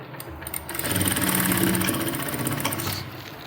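Sewing machine stitching kurti fabric runs in a steady, continuous mechanical whir for a few seconds up close, rising slightly in the middle, with no talking.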